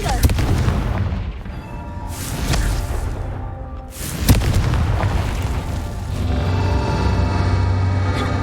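Blasts from the Confringo fire spell in the Hogwarts Legacy video game, several booming explosions near 0.3, 2.5 and 4.3 seconds over continuous game music and ambience.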